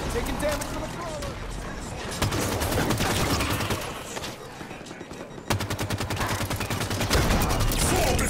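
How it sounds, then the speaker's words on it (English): Rapid automatic gunfire bursts in the Halo 5 Warzone Firefight video game, dense and continuous with mechanical clatter, swelling louder in repeated volleys, with speech mixed in. "He's still shooting the crap out of me as I'm already dead."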